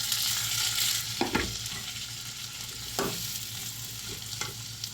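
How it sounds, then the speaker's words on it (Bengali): Onions frying in oil left over from cooking eggs, a steady broadband sizzle with a few sharp stirring knocks and scrapes of a spatula against the pan, no voices. "এখন আমরা এই ডিমের তেলের মাধ্যমে পেঁয়াজ দিয়ে দিন। পেঁয়াজটা সুন্দর করে একটু ভাজি নেব।"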